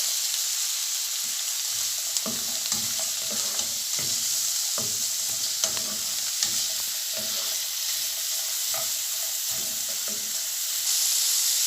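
Diced carrots frying in a pan for chicken wing noodles, a steady close sizzle with a regular series of stirring and scraping knocks from a utensil, no talk.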